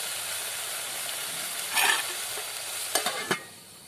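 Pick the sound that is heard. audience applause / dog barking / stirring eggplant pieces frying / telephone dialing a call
stirring eggplant pieces frying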